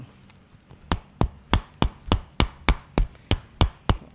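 Rhythmic percussive tapping on a leg during a bone-setting massage, about a dozen sharp, evenly spaced strikes close up, with no talk over them.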